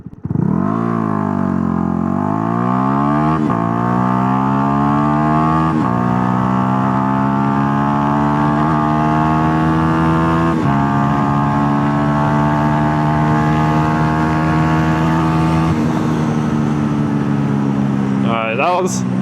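A Yamaha R125 motorcycle accelerating hard in a 0-60 launch, its engine whine climbing steadily through several gear changes marked by brief dips, loud and close throughout.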